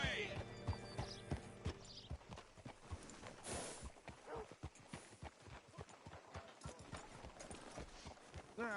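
Horse hooves clip-clop at a walking pace in Red Dead Redemption, mixed with other game sounds and voices, fairly faint overall.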